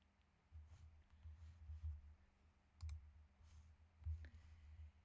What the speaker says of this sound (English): There she's typing.